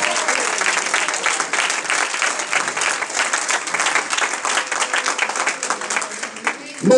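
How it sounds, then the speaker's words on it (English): Church congregation clapping hands to the Lord, steady dense rhythmic applause throughout with voices mixed in, ending with a short louder burst. "Somebody clap your hands to the Lord."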